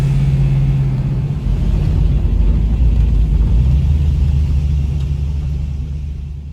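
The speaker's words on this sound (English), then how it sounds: "Burning rubber." A 1975 Pontiac Firebird restomod with a 455 stroker V8 burns rubber, its engine a loud, steady, deep rumble held close for several seconds before easing slightly at the end, with no talking.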